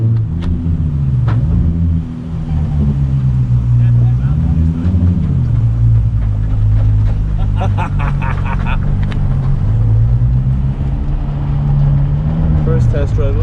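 A Nissan 350Z with a welded differential rumbles on a test drive, the engine drone rising and falling, with choppy tyre skipping and clunks heard up close as people talk inside.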